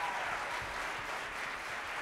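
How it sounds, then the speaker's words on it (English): A concert audience applauds an all-county instrumental jazz ensemble, a brief, steady, continuous roar of clapping with no pauses. "So give them a big round of applause."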